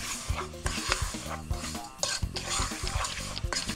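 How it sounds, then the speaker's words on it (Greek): Semolina toasting dry in a pan for semolina halva, stirred quickly and constantly: a continuous scraping and rubbing of the spoon against the pan with occasional knocks, fairly close and steady throughout. "Απλά θέλω να ανακατεύετε γρήγορα γρήγορα."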